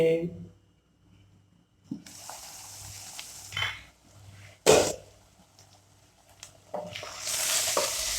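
Chicken masala sizzles faintly in a pan while being stirred, with scraping strokes and a sharp clink of a utensil against the pan. A louder burst of sizzling comes near the end, and people talk over parts of it.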